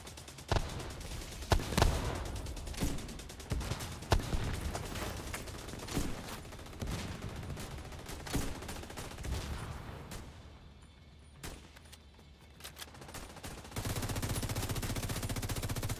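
Gunfire in The Division 2, with steady rapid automatic bursts and single shots through most of the stretch, then a brief quieter lull before the noise level rises again.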